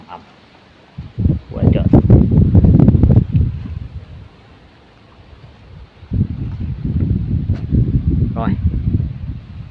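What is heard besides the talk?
strong wind blowing outdoors, rustling leaves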